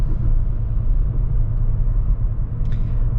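A Mercedes CLA 45 AMG driving along, its engine a steady deep rumble heard from inside the cabin with road noise, constant and fairly loud, with no talking.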